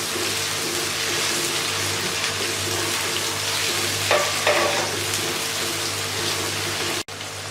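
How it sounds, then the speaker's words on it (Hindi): Ginger garlic paste and green chilies fry in a pan for chickpea curry, giving a steady close sizzle with brief stirring and scraping sounds, then a sudden click near the end. "अब मैं इनको भून लूँगी।"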